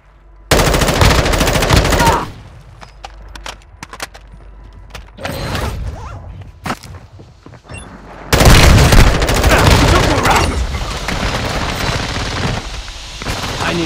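Mid-caliber automatic fire in Call of Duty Modern Warfare II rattles in loud, close sustained bursts, first a short volley, then scattered single shots, then a long heavy stretch of rapid fire running to the end.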